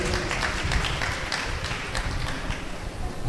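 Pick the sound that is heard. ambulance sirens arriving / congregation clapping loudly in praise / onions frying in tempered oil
congregation clapping loudly in praise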